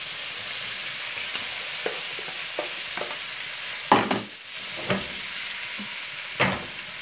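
Potatoes with cumin and sauce fry in a pan, giving a steady close sizzle punctuated by a few soft stirring knocks and scrapes, with no voices.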